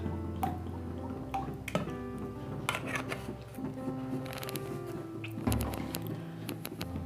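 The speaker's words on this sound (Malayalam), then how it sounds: "പാനിൽ കുറച്ച് ഓയിൽ ഒഴിക്കുക." Sunflower oil is poured into a cooking pan, giving quiet drips and small liquid splashes. Scattered clicks of utensils sound close by in a kitchen.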